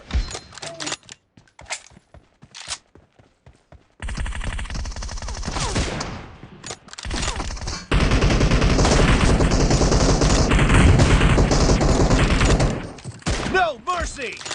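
Gunfire in a shooting video game: scattered single shots early, then sustained dense automatic bursts that build into a loud continuous fusillade, with a few isolated shots at the end.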